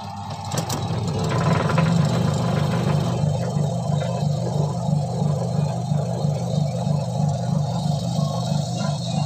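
A washing machine's drum motor spinning steadily during a repair test, a continuous low humming drone with a pulsing vibration that holds even throughout, with no voices.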